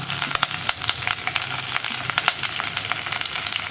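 Sliced onion, green chilies and curry leaves sizzle in hot oil for a mango curry, a steady crackling fry with sharp pops and occasional stirring, close and continuous with no talk.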